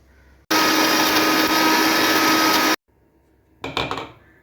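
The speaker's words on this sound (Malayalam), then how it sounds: "പച്ചക്കുരുമുളക് വെളുത്തുള്ളി ഒരു കഷ്ണം ഇഞ്ചി മഞ്ഞൾപ്പൊടി ആവശ്യത്തിന് ഉപ്പ് ഇതെല്ലാം നമുക്ക് അരച്ചെടുക്കാം" A mixer grinder blends green peppercorns, garlic, ginger, turmeric and salt into a paste in a short loud burst of about two seconds, then stops, followed by a brief rattling pulse.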